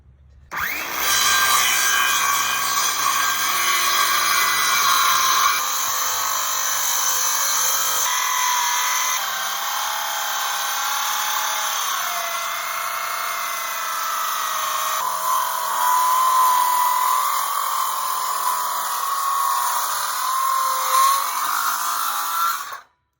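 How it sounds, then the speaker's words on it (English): A Makita worm drive circular saw cuts through scrap wood during a rustic cooler build. Its loud, continuous whining roar holds for about twenty seconds before cutting off abruptly. "I bought a Makita worm drive saw."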